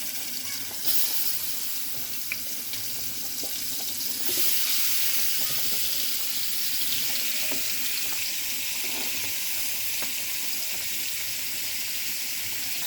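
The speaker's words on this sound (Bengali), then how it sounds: "এই যে ভাজবো এখন শোল মাছ" Snakehead fish frying in a pan, a steady hissing sizzle with occasional small pops and clinks running through the whole stretch, no talking over it.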